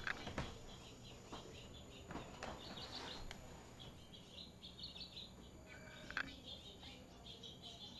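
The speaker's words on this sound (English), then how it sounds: "there's a whole bunch of birds making clawing noise outside" A flock of birds gathered in a front-yard tree outside keeps up faint, scattered chirping and calling, heard quietly at a distance through a low, steady background hiss.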